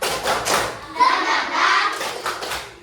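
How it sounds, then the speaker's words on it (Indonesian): Schoolchildren in a classroom do a rhythmic group clap, bursts of hand claps and thumps alternating with children's chanting voices, close and lively. "tepuk semangat dulu ya. Tepuk semangat."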